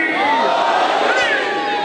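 A large crowd at a religious gathering in an imambargah shouts together in unison, a loud, dense roar of many voices that sustains throughout with a rising and falling chanted contour.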